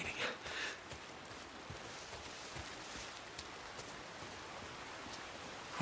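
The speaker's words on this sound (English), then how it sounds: "If it's not the freaks, it's the goddamn rain." Steady rain hiss falls across the whole stretch in the post-apocalyptic game Days Gone, a dense, even wash of drops on surfaces, moderately quiet with faint scattered patters.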